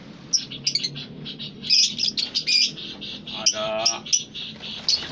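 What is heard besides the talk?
caged birds chirping in an aviary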